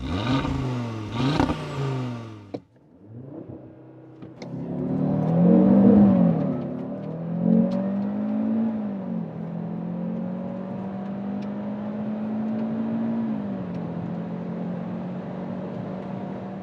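A Cupra Formentor VZ5 facelift with its 2.5-liter five-cylinder engine drives on a closed track, giving a sustained, fairly loud engine drone that rises and holds steady after a couple of sharp early bursts.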